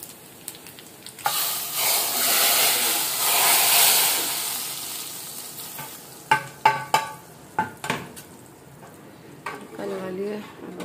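Loud sizzling of cumin and garlic tempering in hot oil for masoor dal, a steady frying hiss that swells then fades, followed by several sharp clinks of a utensil against a pan.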